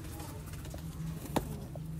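A pigeon coos softly and steadily, with one brief sharper sound partway through, over faint background noise in a breeder's loft.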